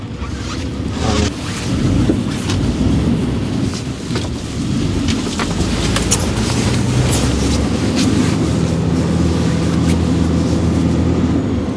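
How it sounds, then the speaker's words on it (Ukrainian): A Daewoo Maximus 4×2 dump truck with a ZF manual gearbox drives along, its steady low engine rumble and road noise filling the cabin continuously and loudly, with occasional rattles and clicks on top. "Давай проїдемося, побачимо, як воно взагалі їде."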